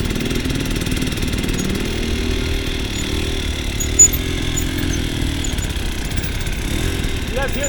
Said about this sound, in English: You guys hear that bike? It's one steady throttle, isn't it?